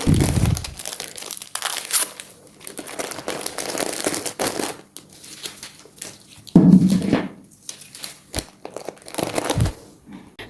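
Gift wrapping paper crinkles and rustles up close while small-business orders are packed, in irregular bursts of crumpling with occasional tearing and quiet gaps between.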